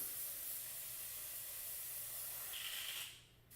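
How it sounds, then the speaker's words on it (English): An airbrush loaded with matte varnish sprays in a steady, close, airy hiss that holds for about three seconds before cutting off, with a short burst of hiss at the end. "Make sure it's spraying okay."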